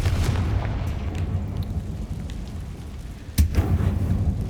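In Hogwarts Legacy, a Confringo blasting spell produces low, rumbling booms, with one sharp, close blast standing out over a continuous dull roar.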